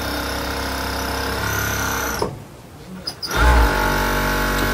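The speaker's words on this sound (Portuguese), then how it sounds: "Passei o overlock na cintura e vou passar na barra." An overlock sewing machine runs steadily, stitching the hem of a garment after finishing its waistband, with a brief pause partway before the motor whirs back up. Loud and close, with no talk over it.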